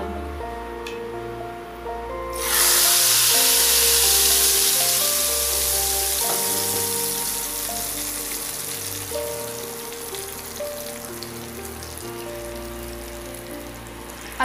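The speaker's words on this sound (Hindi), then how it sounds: "और अब ये तड़का दाल में।" A loud sudden sizzle erupts as a hot garlic tempering in oil is poured into cooked lentils, crackling and hissing steadily before slowly settling over background music.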